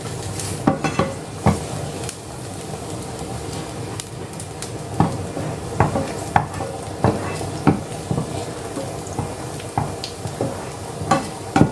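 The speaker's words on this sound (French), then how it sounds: "je fais un peu revenir mon ail dans l'huile d'olive pendant 1 minute à peu près" Garlic cooking in olive oil in a pan, with a steady low sizzle under repeated sharp stirring clinks and scrapes of a utensil against the pan.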